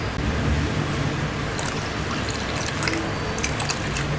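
Water splashes steadily into a pot for black nightshade (manathakkali keerai) soup, a close, continuous pouring rush with a few brighter splashes toward the end.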